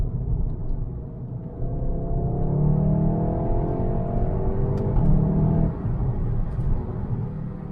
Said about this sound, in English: there's a lot of wind noise, so it's hard to hear everything properly, and tire noise too